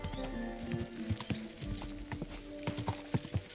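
Horse hooves clip-clop steadily at a walking pace in Kingdom Come Deliverance II, with a faint neigh and soft game ambience underneath.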